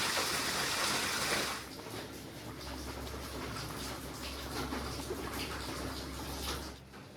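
Khar kol leafy greens being washed in water, a steady splashing and trickling wash that runs on with an initial louder gush, close by and without speech.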